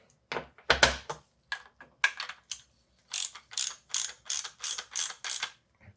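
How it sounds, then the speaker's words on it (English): Ratchet wrench clicking through quick bursts during a Marzocchi Bomber Z2 suspension fork service, close and crisp, with short strokes at first then a steady run of about eight rhythmic ratcheting passes. "Let me use the ratchet."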